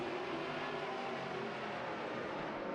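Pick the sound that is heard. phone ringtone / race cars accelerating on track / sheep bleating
race cars accelerating on track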